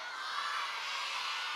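Large audience at a North Carolina American Indian Heritage Celebration cheering and whooping, a sustained roar of shouts and high yells held steady and loud throughout.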